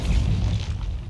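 Expulso spell explosion from the Hogwarts Legacy video game, a loud, deep booming blast that rumbles for about a second with no speech over it.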